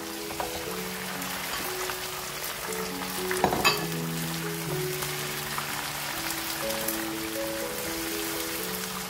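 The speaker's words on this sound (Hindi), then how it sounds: "अब इस पॉइंट पे हम इसमें सबसे पहले गोश्त ऐड करेंगे ताकि हम उसको फ्राई कर सकें अच्छा सा" Mutton pieces fry in a pan for palak gosht, giving a steady crackling sizzle throughout with one brief clatter of the utensil near the middle, with a faint tonal hum underneath.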